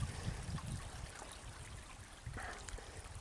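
A narrow creek runs beneath a partly formed ice cover, giving a soft, low trickling and gurgling flow that stays quiet and continuous, with a few slightly brighter splashy bursts.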